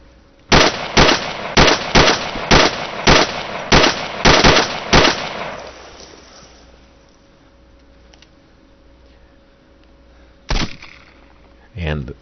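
Rapid bursts of gunfire in the ARMA 2 military shooter, about ten sharp loud shots in quick rhythm over the first five seconds, then a quiet lull before another close burst and a final shot near the end.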